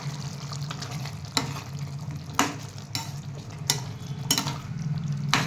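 Water rinsed from a mixer jar splashes into chicken gravy with curry leaves simmering in a pan, making a steady wet sizzle broken by a few sharp pours and clinks.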